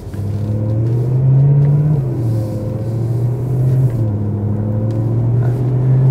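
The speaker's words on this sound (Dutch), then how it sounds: "Zoals je net met die koude start hebt kunnen horen, is de uitlaat van deze M3 net niet meer helemaal origineel." A BMW M3 with a seven-speed M-DCT gearbox and a modified exhaust idles loudly after a cold start. Its deep, droning exhaust note rises and dips slightly as the revs shift, and no one speaks.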